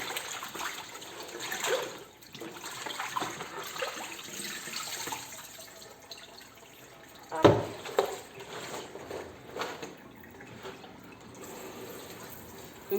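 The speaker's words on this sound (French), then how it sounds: "Donc maintenant je peux vider l'eau de lavage pour mettre de l'eau de rinçage." Wash water drains from a basin of soaking latex clothes and tap water runs for the rinse, a close, uneven trickle and splash with brief louder gushes and sloshes.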